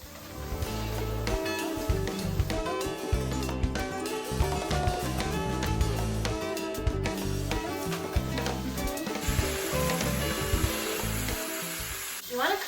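Batches of vegetables sizzle steadily in a pan, stirred with chopsticks, with frequent clacks and scrapes over a loud continuous fry and no talking.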